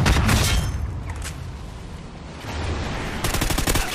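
Video game gunfire crackles in rapid bursts of shots, loud and close, with a brief lull in the middle before another dense volley.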